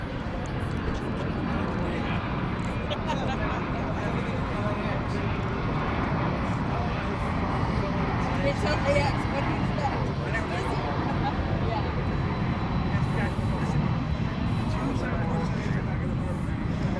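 Airplanes at DFW Airport at night produce a continuous broad jet roar and rumble, with distant engine noise steady throughout and faint background chatter mixed in.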